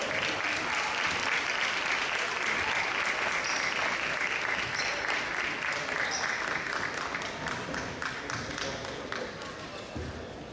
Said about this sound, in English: Please give one more round of applause for our South Bench basketball senior